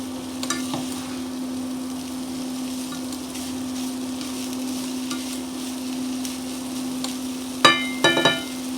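Ingredients get stirred in a saucepan on a steady hum, with faint scraping throughout and a few louder clinks of the utensil against the pan near the end.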